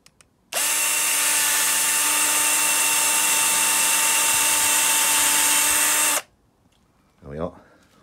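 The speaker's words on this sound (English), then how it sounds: "Let the drill take itself through." A power drill bores through a car number plate for a classic MKIII Ford Cortina, running at a steady high whine for about six seconds before stopping, followed by a brief burst of speech.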